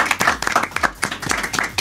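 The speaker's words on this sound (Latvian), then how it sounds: "es domāju, vadētoji gosti ir pelnējuši aplausus." Applause for guests on a Latvian youth talk show, a small group clapping in a quick, uneven rhythm of close individual hand claps.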